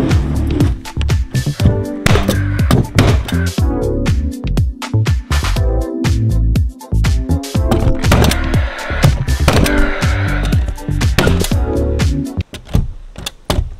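A nail gun drives fasteners into floorboards during a tiny house floor build, firing a close, loud, rapid string of sharp bangs and thumps with a few brief pauses.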